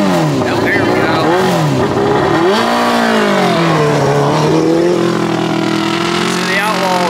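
Micro sprint race car engines rev and roar on a dirt track at Indiana's fastest micro sprint track, loud and continuous with rising and falling pitch as cars pass, while voices talk over the noise.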